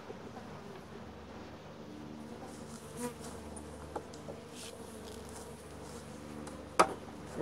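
Honeybees at an opened hive hum in a steady, dense drone that fills the whole span, with a few sharper buzzes of individual bees passing close by and no talking.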